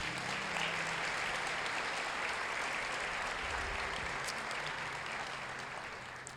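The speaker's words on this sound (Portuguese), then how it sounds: "Você pode aplaudir o Senhor Jesus?" A church congregation applauds during a worship service, a broad continuous wash of clapping that fills the room evenly and slowly fades toward the end, with no speech over it.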